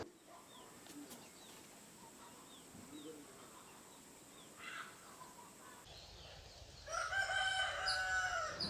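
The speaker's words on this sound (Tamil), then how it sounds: "பொழுது விடிஞ்சதும் நம்ம எழுந்திரிக்கிறதுக்கு முன்னாடி சேவல் கூவி நம்மளை எழுப்பி விட்டுருது." Village rooster crowing at dawn, faint and distant against quiet morning ambience, with a louder burst of bird and fowl noise near the end.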